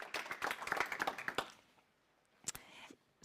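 An audience at an aviation event applauds the panel with a short burst of clapping, fairly faint and distant, fading out before a few scattered claps return.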